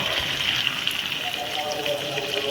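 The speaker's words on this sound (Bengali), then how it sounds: "এবার জল দিয়ে একটু সেদ্ধ করে নেবো আলুটাকে" Water pours into a pot of chicken and potatoes in one continuous gushing splash, fairly close and loud, with a brief watery bubbling.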